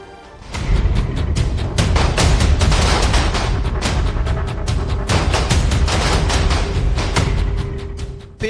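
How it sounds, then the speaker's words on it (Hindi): Rapid, loud gunshots crack in dense bursts and rolling volleys, sharp reports overlapping with booming echoes for several seconds. "बेखौफ गोलियां चलाता असद का ये वीडियो"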